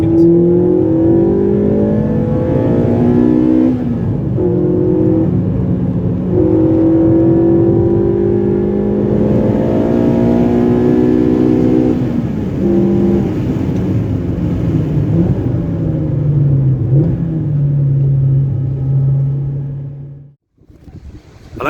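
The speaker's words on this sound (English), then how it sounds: "time for a little bit of a spirited drive, popping it down to second." A Ford Fiesta ST150 Mk6 with Newman cams and a remap revs and pulls through the gears with rising and falling tones, loud and close, for about twenty seconds before cutting out.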